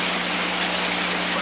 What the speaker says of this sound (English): Water comes up through that.